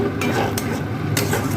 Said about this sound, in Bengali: মশলার সাথে টমেটো পিউরিটা ভালোভাবে মিক্স করে নিচ্ছি।